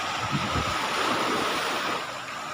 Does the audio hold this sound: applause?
no